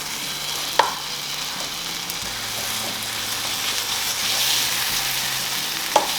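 A grilled cheese sandwich made with many cheeses sizzles in a hot pan just after being flipped, a steady close frying crackle with a couple of sharp clicks from the utensil.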